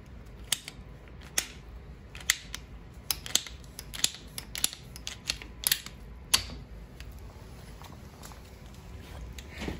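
A new ratcheting cutter rated to 1.25 inches snips through PEX water pipe, replacing an old cracked galvanized line: a run of sharp, crisp clicks and snaps, irregular and close, over a low background rumble.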